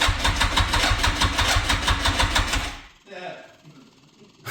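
An abandoned motorcycle that sat for months, choke on and ignition on, turns over with a fast, steady pulsing chug for about three seconds, then cuts out, leaving only quieter rustling.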